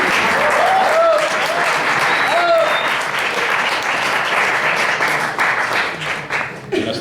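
Audience applause fills the room at a Spanish-language radio interview introduction, a steady wash of many hands clapping throughout, with faint voices and whoops briefly rising above it before it thins slightly at the end.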